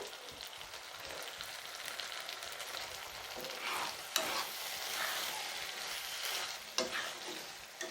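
Prawn thokku gravy fries in oil while a spoon stirs it, giving a steady broadband sizzle with light scraping and a few sharp utensil clicks, close and moderately quiet, with no voices.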